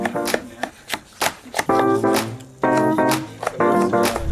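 A knife chops through market vegetables in quick, rapid cuts that alternate sharp strikes with brief tonal squeaks, loud and close.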